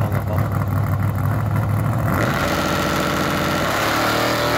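A drag race car with a 540 big block engine on nitrous runs steadily, a loud continuous engine roar whose pitch shifts partway through, heard up close with no talk.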